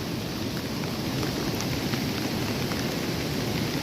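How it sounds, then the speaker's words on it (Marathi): Steady rain falling beside a Konkan river during the monsoon, a dense, even hiss of drops pattering continuously at close range with no voices. "पाऊस पडतोय चांगला कंटिन्यू"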